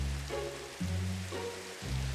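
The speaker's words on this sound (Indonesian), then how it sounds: "aku tiba di sebuah pulau yang melayang di tengah derasnya hujan" Heavy rain pours down in Minecraft, a steady loud hiss over a floating skyblock island, with low game-music tones that shift every second or so underneath the downpour.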